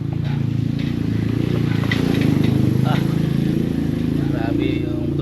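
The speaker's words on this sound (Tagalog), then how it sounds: "Grabe yung motorsiklo na yon," A motorcycle with spiked tires runs along a road, a loud, steady engine drone that swells slightly midway, with voices mixed in.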